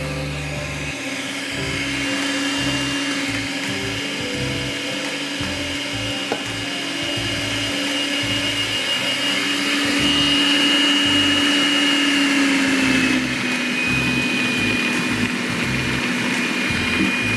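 A food processor kneads taco dough with a continuous loud motor drone. The pitch shifts and wavers partway through as the dough's load changes.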